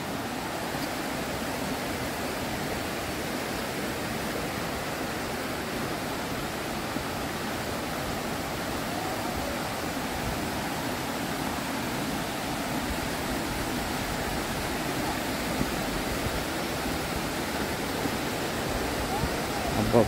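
Hebbe Falls, a waterfall around 551 feet high, roars as a constant broadband rush of falling water that holds steady and close the whole time, with a voice briefly heard over it.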